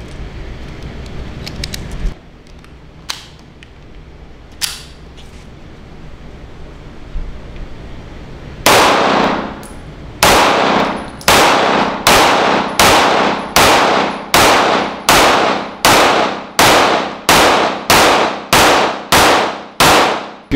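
BUL SAS 1911 pistol firing hollow point rounds outdoors, a steady string of about a dozen loud, sharp shots at regular intervals, each ringing out briefly, after some quiet handling sounds.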